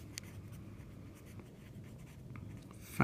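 Handwriting with a pen or marker during a math lesson on parabolas, faint soft scratching strokes over quiet room noise, ending in a brief louder tap.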